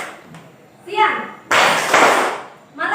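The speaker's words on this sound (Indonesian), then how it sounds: "Kalau seandainya Ibu menyebut siang, tepuk tangan 2 kali." Schoolchildren in a classroom clap their hands in quick bursts on a teacher's cue, loud and close, with a pause between bursts and a brief voice at the start.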